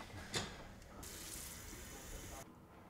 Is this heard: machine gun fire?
no